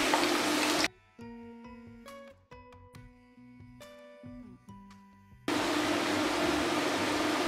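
Potatoes fry in plenty of hot sunflower oil in a nonstick pan, a loud hissing sizzle at the start and end with a stretch of music between.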